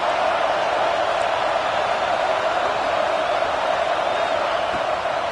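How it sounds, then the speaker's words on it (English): A college football video game stadium crowd keeps up a steady, loud roar, a dense wash of noise that holds level from start to finish. "The roar of the crowd trying to fuel this defense to keep them pinned in their own end"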